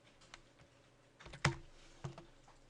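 Typing on a computer keyboard while entering a command in Rhino 3D modeling software: a handful of sparse, close keystrokes, with one sharper, louder press near the middle and lighter taps around it.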